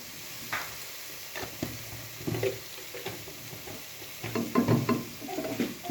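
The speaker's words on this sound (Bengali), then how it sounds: "ঘি দিয়ে এবার নেড়ে নেই।" Carrot halwa is stirred in a pan with ghee, giving a soft sizzle under repeated scraping strokes of a spoon, close and uneven in rhythm.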